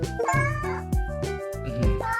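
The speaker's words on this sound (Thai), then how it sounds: "ได้ยินเสียงแมวจนเมื่อกี้ก็หันเหลียวหลังว่าแมวเข้ามาในบ้านหรือเปล่า" A cartoon cat in the hidden-object video game 100 Cats 2 meows clearly about four times in quick succession, each a close, tonal, drawn-out call.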